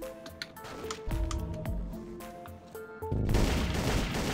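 Enemies firing guns in the top-down superpowered shooter Geneshift: rapid, overlapping sharp shots and bursts in quick succession, moderately loud, building into a denser volley toward the end.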